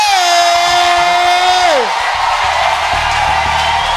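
A church congregation at a Saturday service lets out a loud sustained cheering shout that falls away, followed by lower crowd voices and acclaim with some speech.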